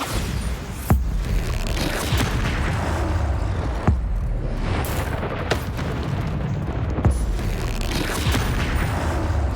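The Bombarda explosion spell in a wizarding video game goes off in loud, repeated booming blasts, several sharp bursts spaced a few seconds apart over rumbling battle noise.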